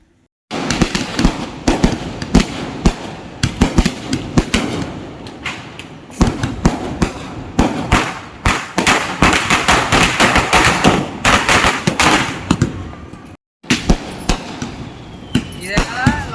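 Diwali firecrackers and fireworks go off in a residential street, a loud, dense barrage of sharp bangs and crackling bursts with brief pauses, voices heard between them.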